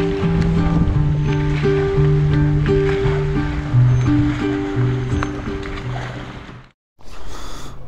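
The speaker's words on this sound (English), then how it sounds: "Well, it's all happening here with the boating." Boats out on the Clarence River in northern New South Wales, a steady close engine hum with tonal drone and water wash running continuously, cutting out briefly near the end before resuming.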